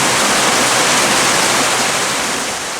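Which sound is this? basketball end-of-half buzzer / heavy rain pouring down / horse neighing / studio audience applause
heavy rain pouring down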